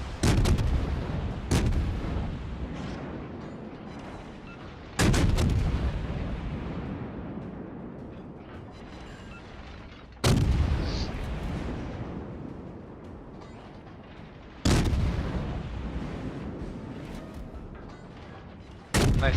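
Ship gunfire in World of Warships: loud, heavy cannon salvos boom about every five seconds, and each blast rolls off into a long, slowly fading rumble.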